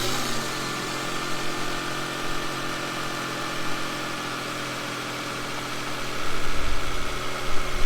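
A car engine, started with a battery jump starter in cold weather, running at a steady idle with a constant low hum, revving up slightly louder toward the end.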